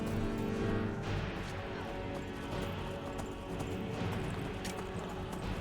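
Horse hooves clip-clop steadily in the video game Skyrim, a continuous dense trotting rhythm over a busy game soundscape with no speech.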